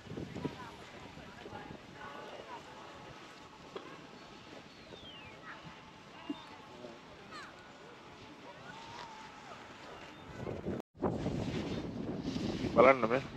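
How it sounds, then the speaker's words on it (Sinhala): A snow cannon at an Italian snow area sprays water while a large fan blows strong air behind it, producing a steady broad roar like wind and surf that swells louder near the end after a brief break. "අර වටේ දින මේලේ වතුර ස්ප්‍රේ කරද්දි පිටිපස්සෙන් ලොකු හුළඟක් දෙනවා"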